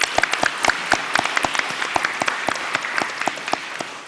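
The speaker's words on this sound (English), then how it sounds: "Can we give them a round of applause," A school board meeting audience gives a round of applause for a high school NJROTC unit, a dense stretch of many hands clapping with sharp individual claps standing out, steady and fairly close for the whole stretch.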